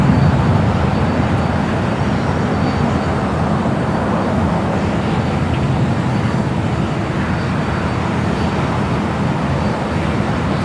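A KLM airliner, Flight 603, arriving at Los Angeles International Airport (LAX) on a humid day gives a steady, broad roar of jet noise that holds loud and constant throughout, with no talk.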